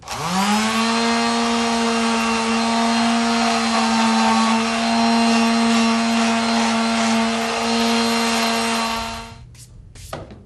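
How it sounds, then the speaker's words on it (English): Power sander roughing up the edges of a craft piece, a loud steady whine that spins up at the start, holds an even buzzing drone for about nine seconds, then winds down and stops, followed by a couple of faint knocks. "I'm going to just let them have it a little bit more with the sander."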